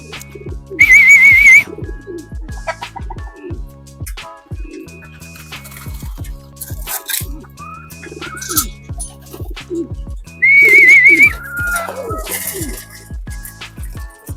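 Racing pigeon on a roof, cooing and calling near the camera amid repeated tapping and clatter, with two loud bursts of bright whistling and people talking throughout.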